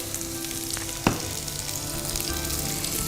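Cauliflower drops into a hot frying pan for a vegetable chop suey, with a sharp thud and a dense, loud, continuous sizzle that carries on after it, and no voices.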